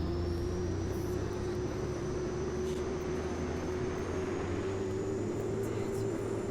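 Steady jet engine roar of an airliner rolling down the runway for takeoff in the X-Plane 11 flight simulator, a continuous loud drone with a slowly rising high whine and no talking.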